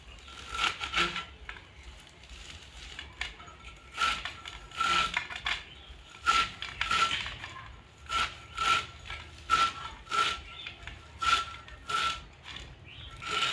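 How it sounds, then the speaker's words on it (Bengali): Fresh bathua greens being chopped with rhythmic, close crisp cuts and rustles, a dozen or more strokes in irregular bursts, alone without talk. "এখন আমি শাকগুলো কেটে নেবো"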